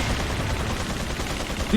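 Gunfire in the video game Resident Evil 4: a dense, continuous clatter of game shots and combat noise over nearly two seconds, fairly loud and steady with no clear gaps.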